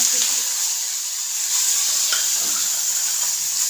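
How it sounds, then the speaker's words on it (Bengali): Chopped onions sizzle and fry in hot oil in a kadai seasoned with panch phoron while being stirred, a loud continuous hiss with occasional spoon scrapes and no talking. "পেঁয়াজ কুচিগুলো দিয়ে দিয়েছি। পেঁয়াজগুলো নাড়বো।"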